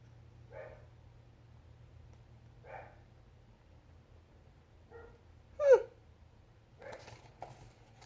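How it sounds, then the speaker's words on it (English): A dog barks faintly in the distance, a handful of short, scattered yaps over a low background hum. "Do you hear my dog barking?"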